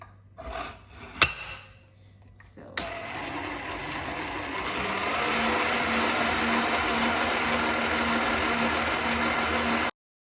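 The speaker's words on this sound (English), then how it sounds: "So using a stand mixer, you can beat it for about 5 to 6 minutes on high speed until the dough is soft and elastic," A stand mixer kneads cinnamon roll dough made with warm milk. A few clunks and a sharp knock come first, then the motor starts with a steady, whirring, mechanical hum running close and continuous until it cuts off abruptly.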